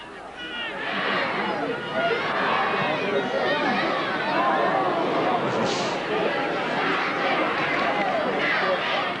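Rugby league stadium crowd roaring steadily behind Cronulla in a 1981 match against North Sydney, a dense continuous wall of cheering and chatter with no commentary over it.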